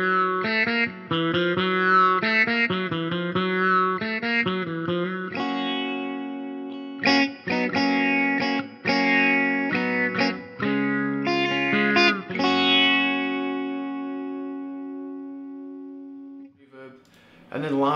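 Electric guitar played through a Line 6 Helix sitar-style patch and amp model with no pitch effect and a touch of reverb, a bright twangy melodic line of plucked notes and ringing chords, loud and close.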